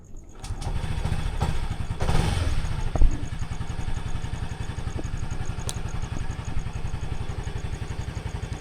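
A motorcycle engine cranks and catches, then settles into a steady, rapid idle thump with some clatter, close and moderately loud throughout, with no one speaking.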